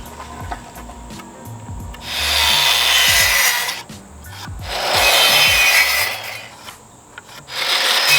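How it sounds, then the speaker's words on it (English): Sanding the rough edges of cut wooden boards for an aquarium stand, three long bursts of loud scratchy rasping separated by brief pauses with light knocks and handling. "So I'm gonna go ahead and sand all of these pieces down before we screw them together and paint it."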